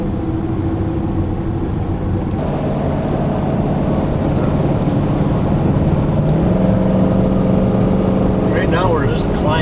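A car engine drones steadily as the car climbs a mountain road on a 2005 road trip, a continuous loud hum that shifts pitch briefly partway through.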